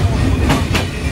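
Dhumketu Express passenger train running between Dhaka and Rajshahi, Bangladesh: steady loud rumble with two brief rhythmic wheel clacks, heard from on board.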